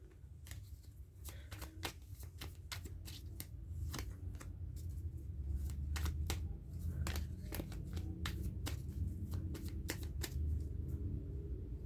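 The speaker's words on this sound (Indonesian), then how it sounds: "Kalau kamu tidak suka melihat saya menshuffle kartu" Tarot cards being shuffled by hand in a steady run of crisp riffles and flutters, close and fairly loud over a low background hum, with no talking.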